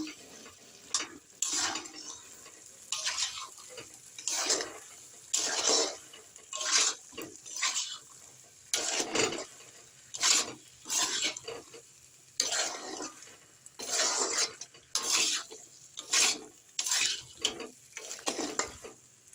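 Potatoes and eggplant frying in a pan are stirred in regular sweeping strokes, about a dozen rhythmic scraping bursts over a soft sizzle, close and alone without talk.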